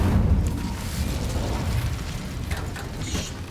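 Incendio fire spell cast in Hogwarts Legacy, a loud roaring, rumbling burst of flame with a heavy low-end boom sustained for several seconds, with brief crackling flares near the end and no talk.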